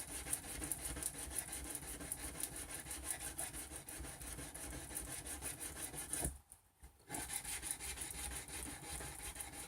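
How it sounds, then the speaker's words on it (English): Steady rubbing and rasping of guitar frets being sanded and polished during a refret, worked from one side of each fret to the other; close, continuous strokes with a brief pause near the end. "I can get the sides of the frets nice and polished and sanded too."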